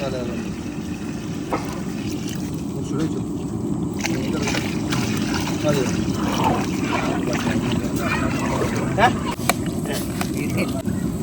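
Generous water is poured onto well-roasted masala for a big fish head curry of about 6 kg, with continuous sloshing and splashing in the pot, close and fairly loud, with occasional voice sounds.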